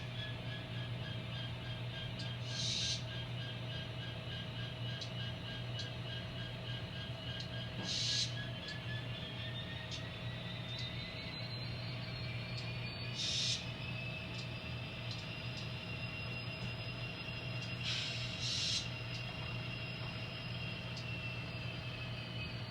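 An N scale model train with nine cars runs along the track, giving a steady low mechanical hum and whine with a slowly shifting motor tone and periodic clicks of wheels over rail joints, close and even, with no talking.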